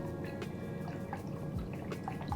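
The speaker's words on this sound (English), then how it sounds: "So I'm gonna pour in 2 cups chicken stock." Two cups of chicken stock poured into a crock pot, heard as a short, close, steady liquid pour and dribble with no talk over it.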